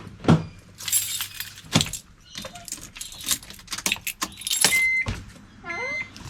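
Keys jangle and clink near a Nissan Stagea with an RB25DET engine. There are scattered clunks and thumps, then a brief whirring, chirping electrical sound near the end, but no clear engine catch or running idle.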